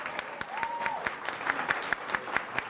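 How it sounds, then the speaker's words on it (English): Applause from an audience at the City of Lowell Khmer New Year celebration, a moderate patter of clapping with a few sharper claps standing out and a brief tonal sound in the background. "I would like to give a round of applause to the students that are here today"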